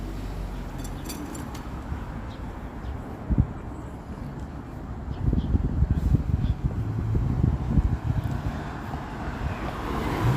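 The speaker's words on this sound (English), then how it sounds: "It's a bit windy and the wind is in my face." Wind buffets the microphone in a steady low rumble while walking downtown in Toronto in March, growing rougher and gustier in the second half, with a few faint higher clicks on top.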